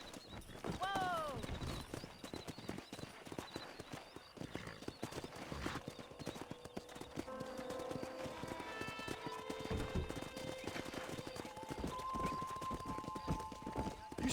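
Wild horses in the Red Dead Redemption video game gallop past with dense, continuous hoof clatter and a whinny near the start, while game speech and music play over them.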